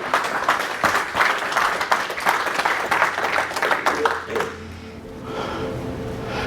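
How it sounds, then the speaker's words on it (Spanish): A church congregation bursts into loud, crowded applause that holds for a few seconds and then fades away, leaving quieter voices and low sound behind. "Denle un gran aplauso al Rey."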